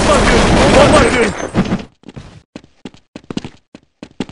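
In a Counter-Strike 1.6 zombie escape match, a grenade is thrown: a dense, loud blast of gunfire-like noise lasts almost two seconds, then gives way to sparse, sharp taps and footstep-like clicks.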